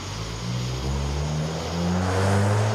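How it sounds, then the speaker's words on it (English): A loud car engine drones and swells as it passes nearby, its low steady roar rising in pitch toward the end. "there's got to be some jerk running through the neighborhood with his loud car"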